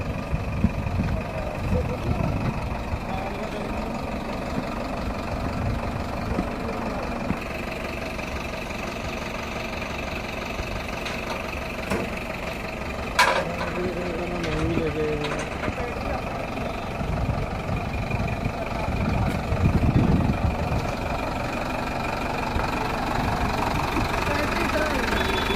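A Ford 3600 tractor engine runs at a steady idle throughout, a continuous low mechanical rumble with a slight knock, while people talk nearby.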